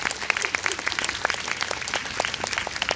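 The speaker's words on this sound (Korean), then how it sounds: "큰 박수 부탁드립니다." An outdoor audience at a rose festival performance in a park's rose garden applauds warmly, with dense, steady clapping and scattered crowd noise throughout.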